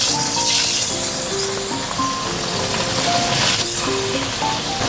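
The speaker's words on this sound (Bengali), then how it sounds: "এবার চলুন মাছগুলো ভেজে নিই।" Fish frying crisp in hot mustard oil in a kadai make a loud, continuous sizzle with crackling spatter, and faint melodic tones sit underneath.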